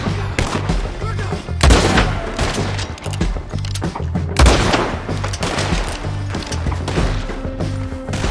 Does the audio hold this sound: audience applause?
no